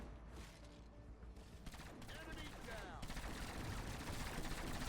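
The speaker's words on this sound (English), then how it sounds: "if you hear those guys firing still, you're golden" Survivor defenders firing guns in Fortnite Save the World, a steady fusillade of rapid shots continuing throughout beneath game noise and faint voices.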